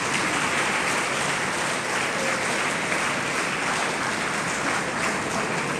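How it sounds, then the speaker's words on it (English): An audience at a school silver jubilee celebration claps in a dense, continuous round of applause, loud and even throughout, with no speech over it. "Let's give them also a round of applause."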